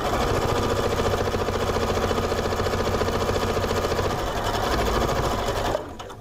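Janome Memory Craft 1000 sewing machine stitching slowly on quilt piecing, a close, steady rhythmic mechanical chatter that runs continuously for several seconds before stopping abruptly near the end.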